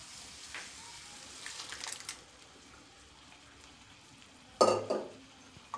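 Cooked toor dal tipped into a kadhai and stirred, with a soft sizzle and a scraping stir early on, then a louder wet splash and clatter near the end, no talking.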